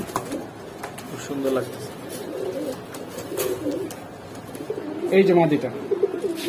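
Pigeons coo in short low bursts among a loft of Giribaz, Kaldam and coloured pigeons, a louder cluster near the end, while someone talks over them throughout.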